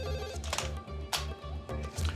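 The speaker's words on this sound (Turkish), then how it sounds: "Telefon." A telephone bell rings insistently in rapid repeated trills, loud and close, with a low continuous hum beneath it.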